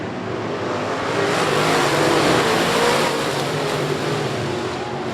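Race cars roar together as they accelerate on a green-flag restart at I-37 Speedway, a loud, dense engine wash that swells and holds steady without letting up.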